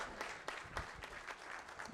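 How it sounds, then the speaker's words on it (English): Faint audience applause at a national dialogue event, a short burst of scattered clapping with a few sharper claps, fairly quiet and distant, with no talk over it. "One more round of applause."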